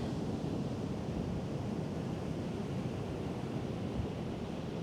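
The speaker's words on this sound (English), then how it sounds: "Hopefully the sound of the waves helps you." Ocean waves wash steadily during an outdoor Pilates class, a soft, continuous surf hiss with wind noise on the microphone and no distinct breaks or voices.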